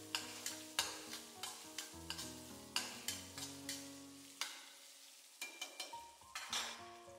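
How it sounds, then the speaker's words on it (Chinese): A spatula stir-fries minced meat in a wok over high heat with chopped scallion and ginger. It makes a steady rhythm of soft scrapes and taps at a low level, with a gentle sizzle and faint music underneath. "继续用铲子给它翻炒"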